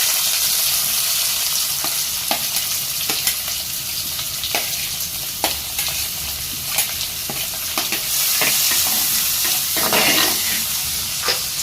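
Onions frying in coconut oil with popped mustard and fenugreek seeds for a spicy prawn curry, a steady close sizzle with scattered crackles and stirring scrapes, no talking.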